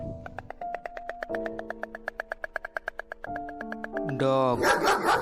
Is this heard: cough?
no